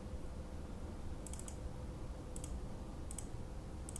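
A computer mouse clicks in short paired bursts, four or five quick clusters spread over a few seconds, faint and close against a steady background hiss with no talking.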